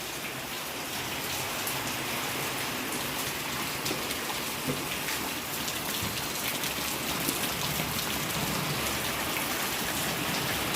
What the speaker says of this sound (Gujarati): જુઓ અત્યારે સવારમાં વહેલા વરસાદ ચાલુ થઈ ગયો છે.